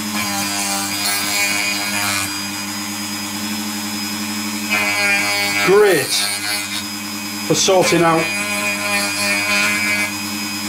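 A Dremel rotary tool mounted in a Dremel 220 workstation sands wood with steady grinding and rubbing and two sharper scraping sweeps, while someone speaks over the work.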